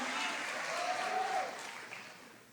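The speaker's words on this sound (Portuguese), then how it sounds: "Se é para Jesus, então aplauda bem forte mesmo." A church congregation applauds during a sermon, a steady wash of clapping that holds strong, then tapers toward the end with a faint voice rising briefly over it.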